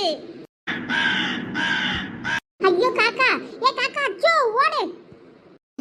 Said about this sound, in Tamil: ஐயோ அந்த காக்கா வேற நம்மள படுத்துதே